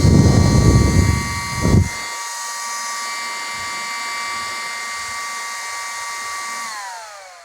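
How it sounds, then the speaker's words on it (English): A small server computer fan runs loudly after being plugged in, a steady high whine with a strong airy rush beneath it that holds evenly and then starts to wind down near the end. "That's what you guys would call a server fan."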